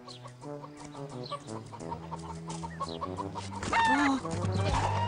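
A hen clucks repeatedly in a rapid, rhythmic series, close and clear, with other farmyard sounds building toward the end.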